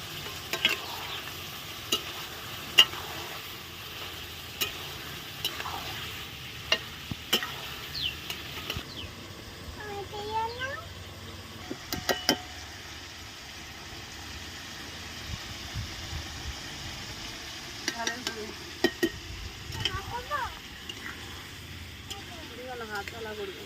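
Ginger-garlic paste frying in a pan for a Bengali chicken curry, with soft sizzling under repeated scraping stir strokes and clinks of a spatula; quiet background hum and occasional sounds from the room.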